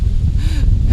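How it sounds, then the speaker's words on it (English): Strong outdoor wind buffets the microphone in a steady low roar throughout, loud and continuous with no talking. "it is very windy right now"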